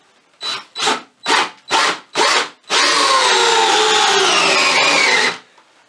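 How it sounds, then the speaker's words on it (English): An old drill bit bores through wood while a wine bottle holder is being made: five short bursts of grinding drilling, then one long, steady run all the way through. The drilling is close and loud, with no talking. "And just drill all the way through like that."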